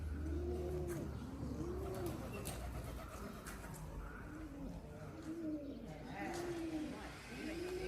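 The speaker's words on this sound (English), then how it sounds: "Pigeons are just rocking the songs here." Pigeons coo in a hillside village in Calabria, Italy, a repeated soft throaty coo rolling out every second or so at moderate distance over faint outdoor ambience.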